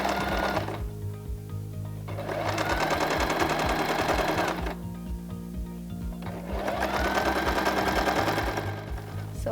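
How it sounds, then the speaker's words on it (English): Sewing machine running a straight stitch around a pillow in two separate bursts of rapid, even needle chatter, with a short pause between them and a pause at the start. "then you start sewing. Straight stitch all around."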